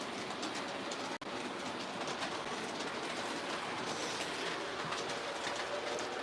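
Continuous rolling rumble of a model train running along its track in an attic layout at night, with steady clickety-clack and no voices.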